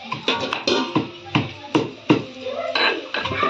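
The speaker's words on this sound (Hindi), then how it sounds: "देखिए ये दीदी मसाला कूट रहा है।" Spices being pounded by hand with garlic and chili for a Bengali home-cooking recipe: repeated sharp thuds at an uneven rhythm, close and fairly loud, with scraping in between.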